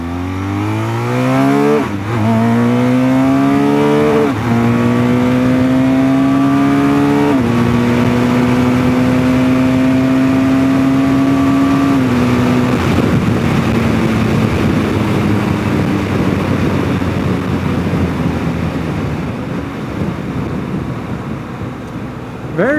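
A 2023 BMW GS 1200 motorcycle engine pulls hard under throttle, its loud tone climbing through several rising sweeps with gear changes before easing off into a rougher, steadier roar, close and continuous.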